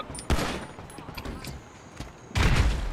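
A grenade launched in GTA 5 Online gives a sharp blast early and a heavy booming burst near the end, with smaller pops and game noise in between.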